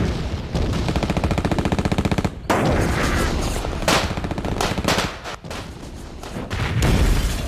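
Dense German artillery and machine-gun fire in a film battle scene, a rapid rattling burst of shots followed by heavy booms and continuous gunfire filling the soundscape, loud and close.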